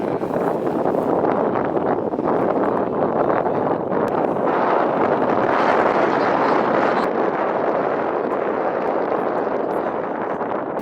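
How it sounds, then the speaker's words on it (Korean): Strong wind blows on a cold day beside the sea, a loud, constant roaring rush battering the microphone for the whole stretch with no pauses. "바다 앞은 바람이 엄청 불어요"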